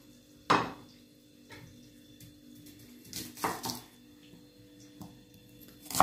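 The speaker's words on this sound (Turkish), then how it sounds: "Bu arada kavrulurken ben soğanlarımızı doğramaya devam edeceğim" Knife chopping onions on a board in a home kitchen while chicken fries in a pan, heard as a few separate sharp chops with quiet pauses between them.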